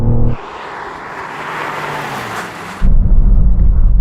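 Car braking hard from 100 mph on cold tyres and cold brakes, a loud engine note dropping into a long rushing roar of tyres and road noise, then a heavy low rumble as it slows.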